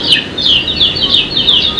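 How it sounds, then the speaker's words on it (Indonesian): Repeated chicken clucks and short squawks, loud and close, arriving in a steady run of calls over a constant background hum, with no talk. "Malah jadi suara ayam"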